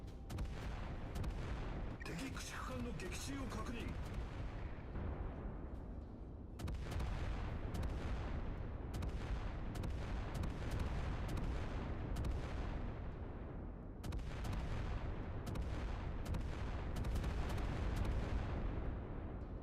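Rapid, continuous heavy gunfire from naval guns in the video game Battlestations: Pacific forms a dense roaring barrage with booming bursts that restart every few seconds and carry no talk.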